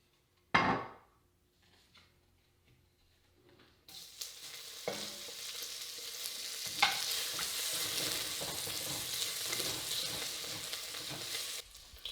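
Diced pancetta dropped into hot extra virgin olive oil in a cast iron Dutch oven, a sharp initial hiss, a lull, then a strong continuous sizzle with occasional clinks and stirring, no speech.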